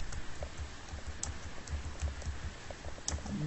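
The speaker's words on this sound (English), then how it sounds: "enter into the chat box and you have to type the messages" Fingers tapping on a computer keyboard at a PC, a quick irregular run of light clicks close by over faint room noise, with no talking.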